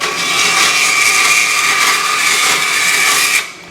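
A power saw rips through flat 3/4 by 1/4 inch aluminum stock with a loud, steady high-pitched whine and grinding hiss, close up and unbroken, then cuts off near the end.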